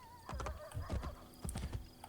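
Shadow, a horse in Assassin's Creed: Brotherhood, gallops with rhythmic hoof clip-clops in quick clusters while neighing, close and loud.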